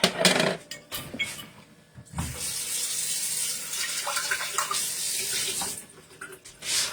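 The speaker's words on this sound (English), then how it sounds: "Who else lets the water run even at home for a little bit before you just start throwing stuff in there?" Tap water runs steadily into a sink for rinsing at home, a close hissing stream with a few clinks and splashes partway through and no talking.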